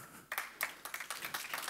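An audience applauds at a conference opening, a brief run of sharp, fairly close claps with a steady rhythm that stays moderately loud across the whole stretch.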